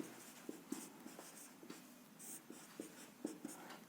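A pen scratches on paper as a ratio is written out by hand while solving a Class 8 maths problem, giving faint, quiet strokes and small taps in an irregular rhythm.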